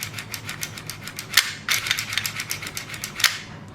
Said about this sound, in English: We can see that it's rougher action when the slide is actually moving back and forth.